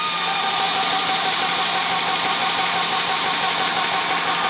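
A VEVOR 30MPa portable PCP air compressor runs with a loud, steady mechanical drone and a dense high whine, unbroken and close.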